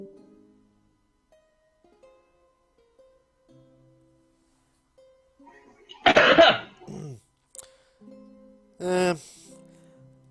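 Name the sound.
loud cough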